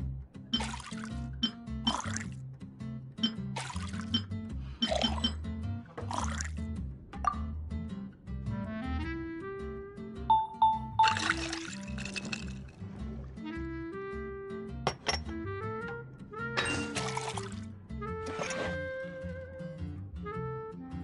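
In Genshin Impact, water is poured into a coffee drink to dilute it, with soft drips and filling trickles over game background music.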